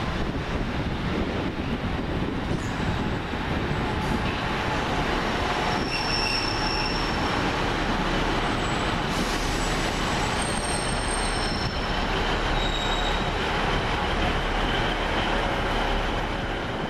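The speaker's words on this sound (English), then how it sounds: "turn it for the arrival of the 1049 Northern Rail service from Manchester, Victoria to Leeds" Northern Rail passenger train pulling into a station on a Manchester Victoria to Leeds service, a steady loud rumble of wheels on rails with faint squeals and outdoor wind throughout, no voices.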